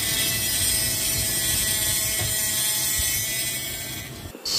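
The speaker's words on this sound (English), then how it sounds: "And this is another engraver, a rotary tool basically." A handheld rotary engraving tool with a round ball burr whines steadily at close range as it cuts into a mug, a dense continuous buzz that briefly drops out near the end.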